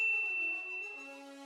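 A clean notification bell ding rings out alone, a single bright chime with a second lower tone following and fading smoothly.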